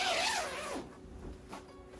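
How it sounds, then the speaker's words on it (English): A zipper closes on a fabric duvet cover, giving one long, close rasping pull that rises and falls in pitch and then fades into a few faint rustles. Nobody talks over it. "We are going to be zipping it up here."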